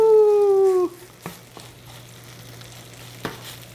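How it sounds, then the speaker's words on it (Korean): A scallion chicken pancake frying in a pan, a soft steady sizzle after a brief stirring sound, with a few light clicks of a utensil. "노릇노릇하게 아주 잘 구워지고 있어요."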